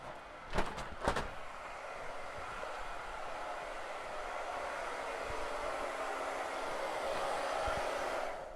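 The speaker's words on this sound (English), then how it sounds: "I'm doing a final dry, Sean, real quick." A hair dryer runs in a continuous, even whoosh for a final dry, close and fairly steady after a couple of sharp knocks at the start, with no talking over it.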